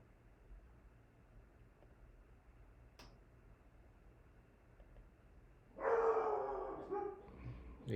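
A dog barks in a burst of several rapid, fairly close barks near the end, after a stretch of quiet room tone with a single faint tick.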